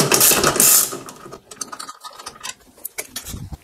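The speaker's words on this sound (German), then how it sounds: "So, und jetzt einfach die Schrauben eben lösen." Ratchet loosening screws on the strut tower of a BMW M2 Competition, a dense loud clicking burst in the first second and a half, then scattered fainter clicks and metallic taps.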